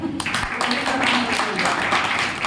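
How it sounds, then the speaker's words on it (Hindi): An audience at an open meeting in Gurgaon, Haryana breaks into dense applause that holds steady for a couple of seconds, with voices mixed into the clapping. "जबरदस्त तालियां"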